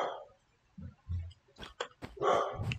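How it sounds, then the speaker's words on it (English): A pet dog barks nearby, several short, abrupt yaps in a loose cluster, fairly loud against a quiet indoor background, with no speech over it. "it's my dog."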